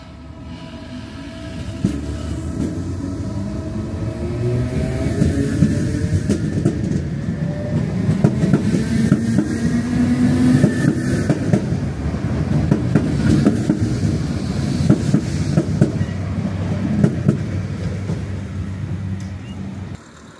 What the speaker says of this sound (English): I'm going to film a train leaving Greystones